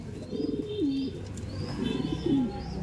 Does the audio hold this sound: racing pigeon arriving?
yes